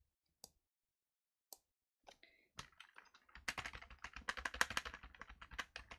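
Typing on a computer keyboard during a ScanNCut craft session: a few isolated key taps, then a rapid, dense burst of close clicking keystrokes with no talk.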